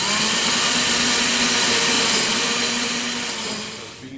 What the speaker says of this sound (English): to drill these dowel holes this side